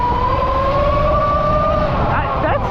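A Ventus One motorcycle accelerates at quarter throttle, giving a loud, close, steady whine that climbs in pitch over a rumbling road noise.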